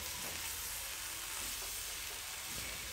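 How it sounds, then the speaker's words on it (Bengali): Cabbage sautéing in a pan with other vegetables for a stir fry, a steady soft sizzle with occasional faint stirring, close and quiet, no voices. "আর বাঁধাকপিগুলো দেওয়ার পরে আমি আর মাত্র 2 মিনিটের জন্য সতে করে নেব।"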